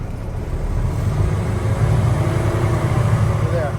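A Freightliner M2 truck engine revving to build up air pressure, a steady loud low rumble that holds throughout with a slight rise partway, close by.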